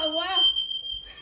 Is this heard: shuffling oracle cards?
no